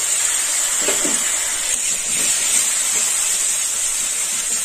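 Tomato paste sizzles in a hot pan with cauliflower for a Bengali kosha phoolkopi, a steady close hiss running throughout with faint stirring clinks.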